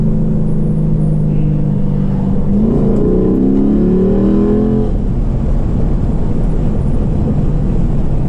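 A 2012 Chevrolet Caprice PPV V8 revs up sharply during a paddle-shift downshift, the engine note rising in a quick climbing sweep before settling back into a steady drone, loud and close with no talk.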